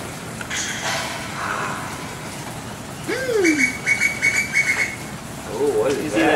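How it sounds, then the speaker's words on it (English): A wild bird calling outdoors in the rain, with a few whistled and rising-falling notes, then a quick run of repeated chirps, heard over a soft rain hiss as a person speaks briefly. "Oh, what is that? Sounds like some kind of wild bird."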